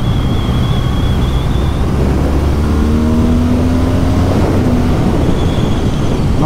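A 2024 BMW R12 cruiser motorcycle's engine rises in a steady acceleration, the rising drone heard close and loud under strong wind rush throughout, with no talking.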